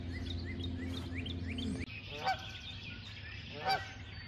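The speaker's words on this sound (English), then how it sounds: "these geese won't shut up" Geese honk in repeated calls at a rural Southeast Missouri property during spring tree planting, several sharp honks standing out over a steady low background hum, with other bird chirps mixed in.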